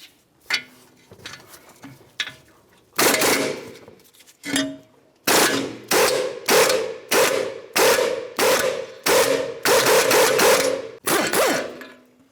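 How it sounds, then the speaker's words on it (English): A hammer and pickle fork separate a ball joint from the steering knuckle of a 2009-2019 Ford Flex during control arm replacement: a few scattered blows, then a steady run of loud, sharp metallic clangs, roughly two per second, with no talking. "continue on with our hammer and pickle fork"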